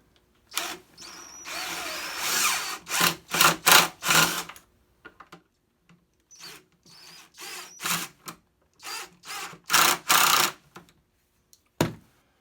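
A power drill drives a screw into an IKEA chair during a repair, heard close up as a series of short whirring bursts separated by brief pauses, with no talking.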